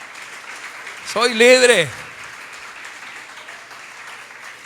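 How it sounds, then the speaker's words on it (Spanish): A church congregation claps in sustained applause during a service, while a preacher's amplified voice briefly calls out over it. "Dele el aplauso a Cristo Jesús."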